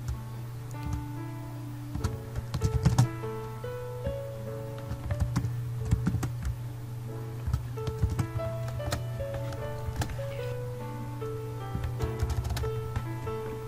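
Computer keyboard keys clatter in uneven bursts while Python code is typed in, close and clear over a steady low hum, with no talking.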